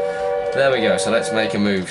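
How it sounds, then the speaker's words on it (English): Steam locomotive whistle on the Ragland Railway in Train Simulator 2018, a steady tonal blast sounding close and loud while someone talks over it. "The whistle actually sounds like this."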